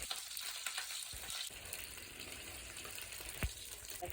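Lettuce leaves fry in hot oil alongside beaten egg, a steady hiss of sizzling with a couple of sharp clicks of a utensil against the pan, nearby and moderately loud, no voices.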